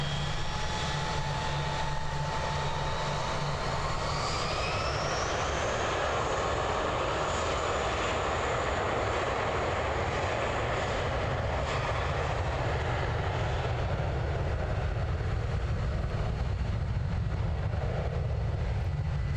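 A Jetstar airliner taxis at Christchurch Airport, its jet engines droning loud and continuous with a whine that rises and shifts in pitch, heard from outdoors nearby without talking.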